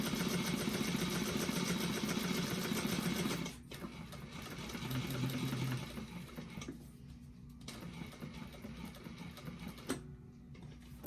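A sewing machine stitching a bag runs steadily for a few seconds, then pauses and restarts in shorter bursts as the work is turned with the needle down, heard up close with no talking.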